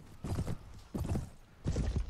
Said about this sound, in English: This horse is really slow.